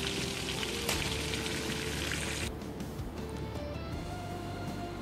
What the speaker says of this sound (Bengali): দেখুন আমি এপিট ওপিট করে হালকা করে ইলিশ মাছগুলো ভেজে নিচ্ছি।